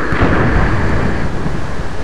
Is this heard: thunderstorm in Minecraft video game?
yes